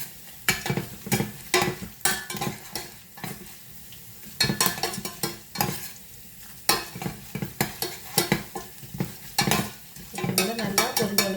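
Green chilies frying in a pan for ven pongal, a sizzle under repeated sharp clanks and scrapes of a utensil stirring against the metal, close and rhythmic.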